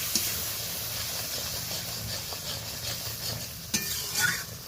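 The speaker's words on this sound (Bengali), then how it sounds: "মশলাটা একেবারে রেডি হয়ে গেছে। ভালোভাবে কষিয়ে নিলাম।" Spice paste sautéing in oil in a pan, a close, steady sizzle with soft scraping stirs and a couple of sharp utensil knocks near the end.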